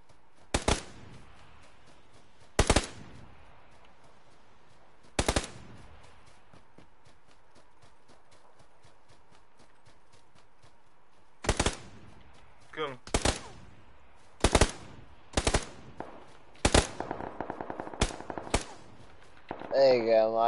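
Automatic gunfire rings out in the PUBG video game: several sharp bursts spaced across the stretch, growing denser toward the end, with quiet gaps between them and no talk over them.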